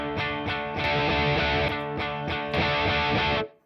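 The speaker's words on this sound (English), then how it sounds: "by turning the overdrive on, I get back to that nice distorted sound" An electric guitar plays through an overdrive pedal with a thick, saturated distorted tone. Loud repeated strummed chords ring continuously for over three seconds, then cut off abruptly.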